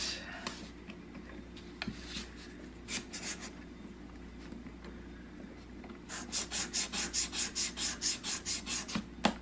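A wooden rat trap is rubbed smooth to take off splinters, with scattered quiet scrapes at first, then a run of about a dozen quick rhythmic rasping strokes near the end, close and soft.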